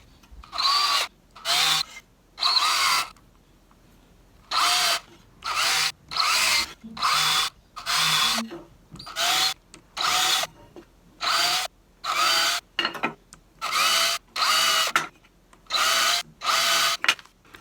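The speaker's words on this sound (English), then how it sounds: "Now I'll drill these holes out with a small bit" Power drill boring a series of holes in wood for canoe seat dowels, starting with a small bit: about fifteen short bursts of loud, close whining, evenly spaced with brief pauses between them.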